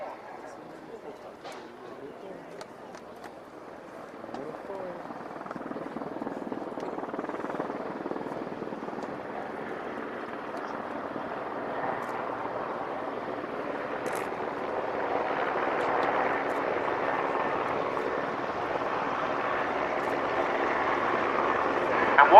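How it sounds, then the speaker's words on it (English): Steady rotor drone of Royal Navy Merlin Mk3 and Wildcat AH-1 helicopters flying at the Yeovilton airshow, growing gradually louder as they approach, with a commentator speaking over it. "here come the representatives of the Commando Helicopter Force, the 2 Merlin Mark IIIs and the 2 Wildcat AH-1s"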